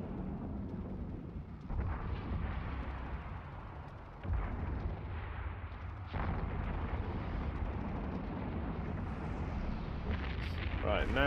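Ship turrets firing antimatter charges in the space game Eve Online, a rumbling barrage of heavy booming shots with several sharper bursts standing out over a continuous low roar.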